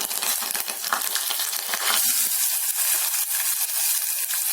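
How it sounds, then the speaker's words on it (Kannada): Onion fries in hot oil with mustard seeds and cumin for an aloo and capsicum gravy, a steady close sizzle with stirring scrapes early on that settles into a continuous hiss. "ಈರುಳ್ಳಿ, ಫ್ರೈ ಮಾಡ್ಕೊಳ್ತೀನಿ, ಚೆನ್ನಾಗಿರುತ್ತೆ."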